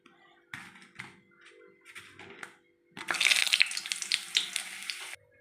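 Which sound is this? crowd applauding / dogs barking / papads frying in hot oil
papads frying in hot oil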